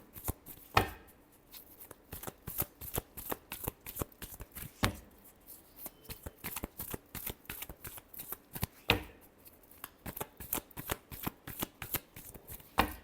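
A deck of tarot cards is shuffled by hand, giving a long run of crisp riffling and tapping bursts, some sharper and louder than others, close up and without talk.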